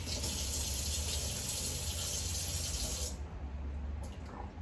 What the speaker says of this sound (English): Alright, so I'm just kind of rinsing them off a little,